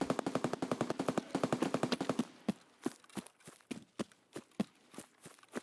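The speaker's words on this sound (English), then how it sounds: "From the gunshots, there looks to be some action on the power station" Rapid bursts of gunfire in a multiplayer shooter near a power station, a fast continuous volley followed by slower, spaced single shots, loud and close with no talk over it.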